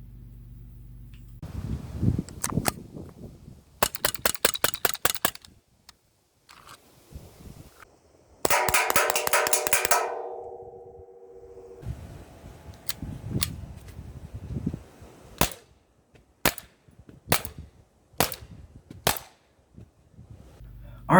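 A Smith & Wesson M&P 2.0 .43 caliber CO2 pistol firing: sharp, snappy pops, some in quick rapid strings and others spaced a second or so apart, loud and close, with brief mechanical clicks between shots.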